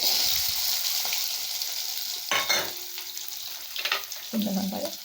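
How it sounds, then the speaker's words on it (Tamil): Shallots, dried red chillies, coriander and curry leaves sautéing with asafoetida in oil for okra tamarind kuzhambu, a continuous close sizzle with a few scraping stirs of a spatula partway through. "வரமிளகாய், மல்லி, கருவேப்பிலை போட்டு நல்லா வதக்கணுங்க."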